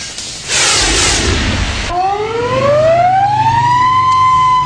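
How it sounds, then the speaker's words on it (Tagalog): A loud siren wails close by in a Quezon City subdivision, starting with a harsh blare and then rising into a long climbing tone over a steady engine hum. "Pag-alingaw-ngaw ng sirena sa Keyville Subdivision sa Quezon City"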